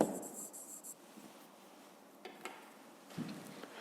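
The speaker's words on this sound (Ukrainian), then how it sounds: "Випишіть повністю, я буду скорочено писати." Pen writing on paper, soft scratchy strokes heard up close in short bursts separated by pauses, quiet and alone, with no talking.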